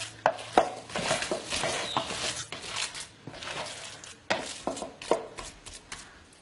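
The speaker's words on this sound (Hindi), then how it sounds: "अब इसे हम हाथ से ही मिक्स कर लेते हैं।" Minced meat with finely chopped washed coriander mixed by hand in a bowl for nargisi kofta, giving soft irregular squishes and pats with a few sharper knocks, fairly quiet and close, no talking.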